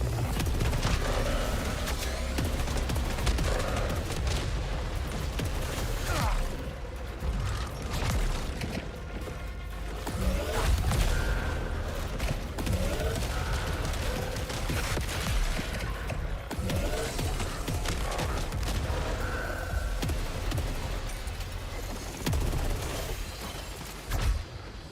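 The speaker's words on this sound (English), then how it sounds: "That hand cannon's great." Hand cannon fire in the video game Saros, dense overlapping gunshots and mechanical clanks mixed with game sounds and music, loud and sustained throughout.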